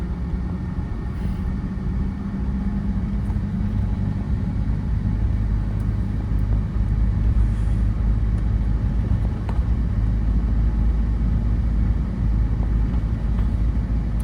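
A car engine rumbles low and steady from inside the vehicle as it gently gains speed during a beginner driving lesson, with no talking.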